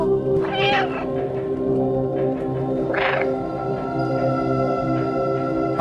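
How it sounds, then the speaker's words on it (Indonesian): A cat meows twice in the video game Stray, two short mid-pitched cries about two seconds apart over steady, layered game music. "Meow."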